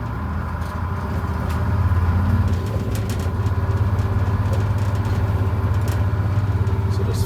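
A Detroit Diesel 6-71 truck engine rumbles as it rolls slowly up to park on a pad after a cold start, a steady low drone with faint clicks and knocks, no talk.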